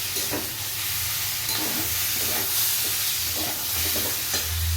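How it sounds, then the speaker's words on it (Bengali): Small prawns are stirred with taro in a pan, giving a steady close sizzle with soft periodic scraping strokes and a low background hum, and no talk. "চিংড়ি মাছটা দিয়েও খুব ভালো করে কচুর সাথে মিশিয়ে নেব"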